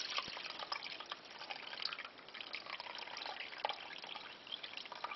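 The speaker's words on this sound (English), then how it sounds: "Just put it through a strainer." Chicken stock from a roast chicken pours through a strainer into a pot, a steady close trickle and drip of liquid running the whole time with no voices.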